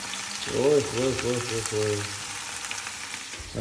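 Oil sizzling and crackling as food fries while hot oil is pressed and poured over it, a steady close hiss with faint talk in the background.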